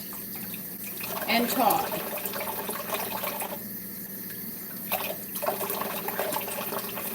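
Steady running tap water rinses raw chicken thighs in a kitchen sink, a continuous close splashing flow with brief louder surges, while a person talks briefly over it.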